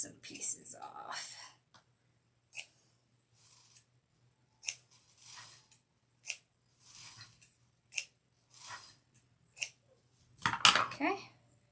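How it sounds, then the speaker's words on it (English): Scissors snipping pieces off craft material for a homemade cauldron, a series of short crisp cuts spaced irregularly, close and fairly quiet, with soft breathy sounds in between. "Let's just cut some pieces off."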